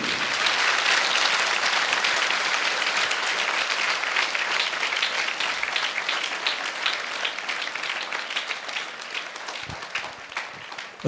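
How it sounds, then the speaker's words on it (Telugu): Audience at a Sri Chaitanya school motivational session in Vizag bursting into sustained applause, a dense, loud wash of many hands clapping that holds steady for about ten seconds before thinning slightly at the end. "చప్పట్లు కొట్టమే, చెప్పాలి గట్టిగా వెలిగితే."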